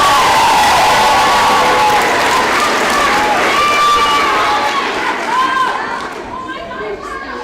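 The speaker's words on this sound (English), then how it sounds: "Can we also give a round of applause for Mrs. Van Dellen" Loud audience applause and cheering after a school drama department play, children shouting and whooping over dense clapping, close and energetic before fading toward the end.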